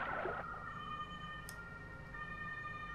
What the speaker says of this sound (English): Another ambulance! First one just came through